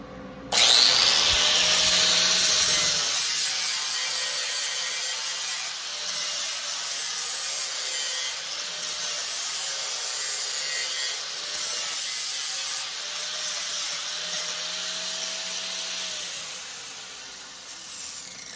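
Power grinder cutting down a bent steel chain piece for a chain-link rose stem, a steady, loud, continuous whine with a high ringing tone that dips slightly as the wheel bites, running almost the whole time with no talking.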